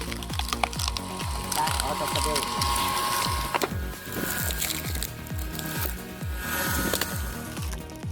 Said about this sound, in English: The first test of the screw shaft separator, and guess what? It's running like a dream with a 3 kilowatt motor.